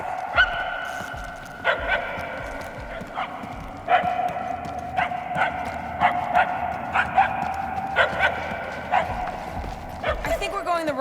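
A dog barks repeatedly in the Marvel's Guardians of the Galaxy video game, sharp separate yelps spread across the stretch at an uneven pace. Character voices and game sounds run underneath.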